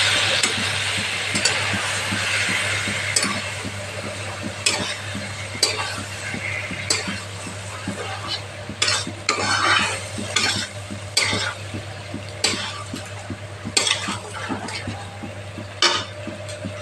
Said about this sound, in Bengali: অল্প অল্প গরম জলটা দিয়ে দিচ্ছি এখানে মশলাটা সাঁতলানোর জন্য।